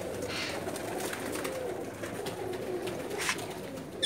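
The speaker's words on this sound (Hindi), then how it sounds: "देखें जी, माशाल्लाह बहुत ही खूबसूरत कबूतर हैं" Pigeons in a loft in Jeddah, Saudi Arabia, coo softly and steadily in low, murmuring rolls, with a few faint higher flutters and sounds over a constant background hum.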